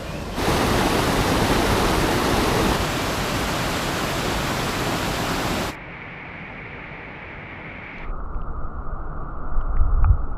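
Loud continuous rush of a swollen stream of clear water in Rajapur, Konkan, broad and steady, then dropping abruptly to a quieter, narrower roar for the remaining seconds.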